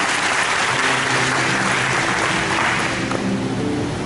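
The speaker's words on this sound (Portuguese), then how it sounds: "Uma salva de palmas aos nosso casal" Applause from a church gathering for a couple, a steady dense wash of clapping held at an even level throughout, with faint sustained tones underneath.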